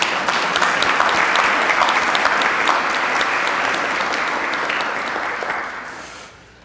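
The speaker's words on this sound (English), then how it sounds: "We can clap for that one." A church congregation applauds during a Lutheran service, a dense steady clapping that stays loud for several seconds before tapering off and fading out at the end.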